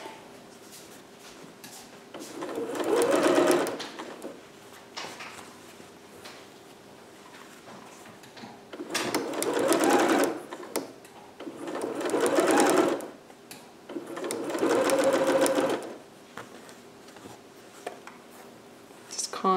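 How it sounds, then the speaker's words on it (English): A sewing machine stitches down the seams of a Vogue 8280 cap sleeve dress in four separate bursts, each lasting a couple of seconds, with quieter handling of the fabric in between. "You just want to make sure that you're stitching everything down that you need to be."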